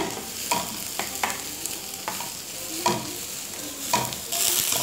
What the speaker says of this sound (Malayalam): ഇനി അതിലേക്ക് ക്യാബേജ് ചേർത്ത് കൊടുക്കുക ഇനി ഇതൊന്ന് വാടിക്കിട്ടട്ടെ